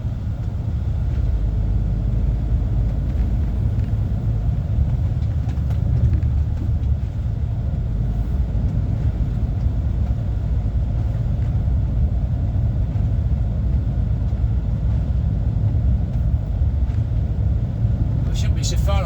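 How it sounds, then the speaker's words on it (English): A Scania R450 truck drives along, its cab filled with a steady low engine rumble and road noise, with someone talking over it at times. "Very smooth ride in the Scania."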